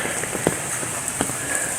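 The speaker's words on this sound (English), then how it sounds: "Nice, wet, rainy day. Rained all night." Rain falls steadily on a wet day at the edge of a tropical depression, a dense close patter with scattered louder drips hitting surfaces.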